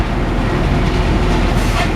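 A Loram rail grinder train rumbles past a railroad crossing, a loud, dense low-frequency roar with steady mechanical noise and faint rattling, close by and continuous, without talk.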